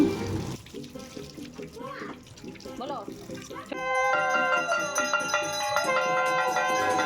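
Fish being washed under a running kitchen tap, with water rushing and splashing over the fish; a voice and ringing tones sit on top of the water noise.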